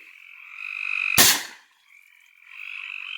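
A pond frog gives a steady, trilling croak near the mic, broken by a single sharp loud crack before the croaking resumes more quietly.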